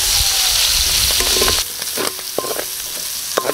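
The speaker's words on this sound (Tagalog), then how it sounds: "Gisa na rin natin yung ating mushroom." Mushrooms are sautéed in a pan with garlic and onion that have caramelized to golden brown. A loud sizzle rushes up at first, then drops back as spatula scrapes and clatters break through.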